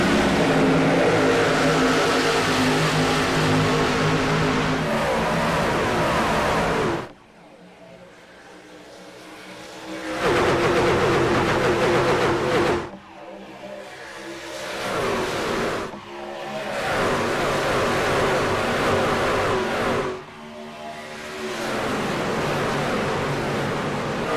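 Race cars launching at the start of an eNASCAR race at Texas in a racing video game, a loud sustained engine roar that surges and dips in several waves.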